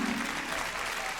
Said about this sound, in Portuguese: Alguém dê uma salva de palmas ao Senhor.